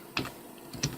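Two quick keystrokes on a computer keyboard while typing code, close and fairly soft, about half a second apart.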